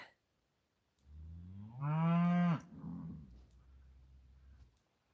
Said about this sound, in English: There's some cows.